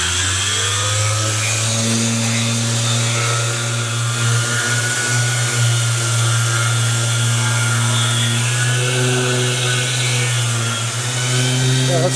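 A power sander works across a wooden cutting board, a steady loud motor whine with a low hum that holds unbroken for the whole stretch, no talk over it.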